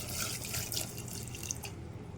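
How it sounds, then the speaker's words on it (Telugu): Water poured into a pot of dal ingredients, with mango and chili powder, before pressure cooking; a steady close splashing pour with dripping, continuous and alone. "ఇప్పుడు ఉడకడానికి కావలసిన వాటర్ వేసుకుందామండి"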